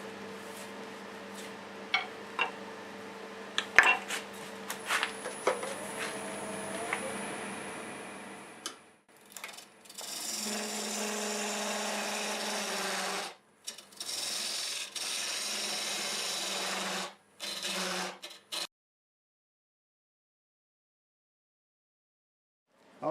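Wood lathe turning a tenon on a wooden blank for a bird-themed piece, heard as scattered ticks and scraping at first, then bursts of steady rasping cut interrupted by short pauses before falling silent.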